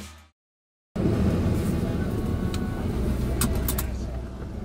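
Steady rumble of a car interior heard from inside a moving car, a continuous low road and engine drone filling the cabin after a brief silence at the start, with faint higher clicks or rattles over it.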